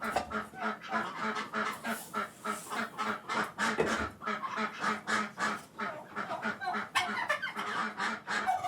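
Farm geese, ducks and other fowl being fed in a rural mountain setting, a dense flock honking and quacking in rapid repeated bursts, close and continuous with no talk.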